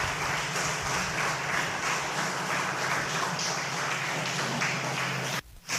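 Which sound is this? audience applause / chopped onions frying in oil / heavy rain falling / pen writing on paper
audience applause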